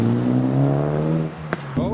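A Nissan S14 leaving a car show accelerates away with a rising, buzzy engine note that fades, followed by a couple of sharp exhaust pops or clicks near the end.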